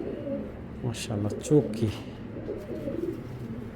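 A pigeon coos softly nearby in short throaty bursts while someone talks over it in a quiet indoor setting.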